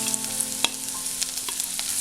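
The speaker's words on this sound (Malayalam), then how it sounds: "ഈ സവാള ഒന്ന് നന്നായിട്ടൊന്ന് വഴറ്റിയെടുക്കണം" Finely chopped onions sautéing in hot oil for a chicken ela ada, a steady crackling sizzle with a few sharp clicks of a spoon stirring the pan, close and clear with no talking.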